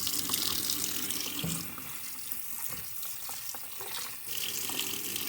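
Cold tap water runs steadily into a sink while a deer heart is rinsed, a close, continuous splashing hiss with small knocks of handling underneath.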